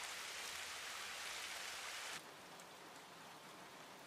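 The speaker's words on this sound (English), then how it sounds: "Uh-oh, it's raining." Steady rain pouring in an anime scene, a dense even hiss that drops abruptly to a softer patter partway through, with no voices.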